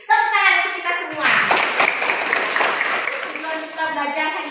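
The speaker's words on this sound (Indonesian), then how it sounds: "Tepuk tangan untuk kita semua." Schoolchildren in an Indonesian primary classroom clap their hands together in a brief burst, with a teacher's voice heard before and after the clapping.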